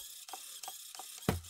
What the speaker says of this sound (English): I can hear the servo.